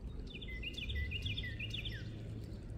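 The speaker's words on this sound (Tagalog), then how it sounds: "Nag-iingay ang ibon." A bird chirps in a park, a quick run of high, thin tweets over a low rumble of outdoor background noise, fairly faint and with no talking.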